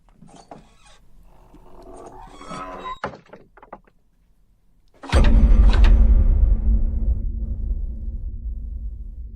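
A door or window is shut from outside, giving one heavy thunk followed by a deep, fading rumble, after softer handling and rattling sounds.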